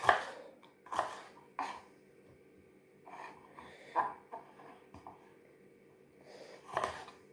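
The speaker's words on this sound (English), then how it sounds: "you'll be able to just cut the pepper straight off" A knife chops a pepper on a cutting board for a chicken and vegetable stir fry, giving soft, uneven taps spaced about a second apart, quiet and close with no talking.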